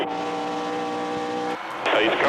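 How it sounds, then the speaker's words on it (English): Race car engines revving at the start of a NASCAR Nationwide Series race, the Memphis 250, a steady tonal drone that drops out and swells into a louder, rougher roar near the end. "Gentlemen, start your engines."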